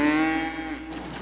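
A single drawn-out moo from cattle rises and fades over about a second, strong and fairly close, with no talk over it.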